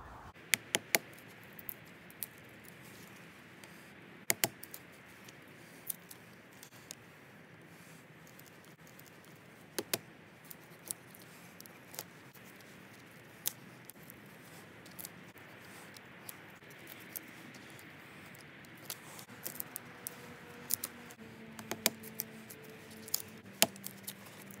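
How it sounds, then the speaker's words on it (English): A Broc Small Tracker knife splits wood into pencil-lead, pencil and thumb-sized kindling outdoors, giving sharp, scattered close knocks and cracks over a low, steady background hiss. "We're doing a bit of wood processing to break this down into pencil lead size,"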